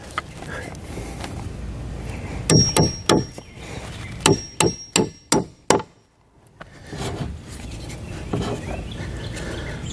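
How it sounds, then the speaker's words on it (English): Several sharp hammer blows driving lag bolts into wood, loud and close, in two quick bursts separated by a pause, with light shuffling around them. "And then we can hammer our lag bolts"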